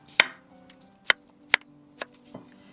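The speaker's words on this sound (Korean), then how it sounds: "감자 4개에 500g입니다. 둥글게 썰어 줄 거예요." A knife slicing potatoes into thick rounds on a cutting board for braised potatoes: five crisp, close chops spaced unevenly, each a sharp knock against the board, with no talk.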